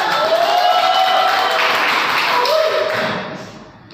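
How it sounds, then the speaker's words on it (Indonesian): Students in a classroom clapping together, a sustained burst of applause with a faint tonal ring underneath, tapering off at the end. "Tepuk tangan buat kalian."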